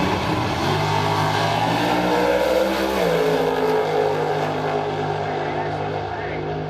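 A 1971 GMH HG Australian muscle car at a drag strip, its engine roaring loudly and steadily as it runs, with the pitch shifting midway, under a commentator's voice.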